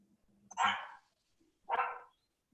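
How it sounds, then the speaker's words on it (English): Dog barking twice in the background of an online meeting, two distinct, fairly close barks about a second apart with quiet gaps between and a little faint talk. "I heard a bark. Who barked?"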